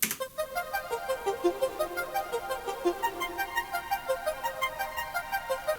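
A bright synth lead plays a rhythmic run of rising and falling notes for a chill future bass beat, run through overdrive, a flanger and a Valhalla delay so the repeating tones pulse steadily and alone.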